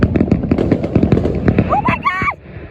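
Fourth of July fireworks in Bethlehem, Pennsylvania crack and pop in a rapid irregular series, loud and near, while excited voices shout and talk over the bursts.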